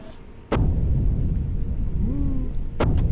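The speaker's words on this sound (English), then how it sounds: "Wasserbomben! Sehr nah!" Depth charges burst close to a U-boat in a submarine video game: two heavy booming explosions, one near the start and another near the end, over a constant rumbling hull background with a faint whine between them.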